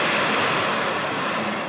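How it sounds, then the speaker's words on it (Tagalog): Strong typhoon wind roars steadily with dense broadband noise and gusting turbulence close to the microphone, loud and continuous with no voices, like surf or a waterfall. "Lakas ang hangin."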